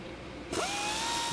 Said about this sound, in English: Tighten these down with my air ratchet.